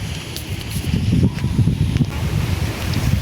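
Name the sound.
cold wind with rain outdoors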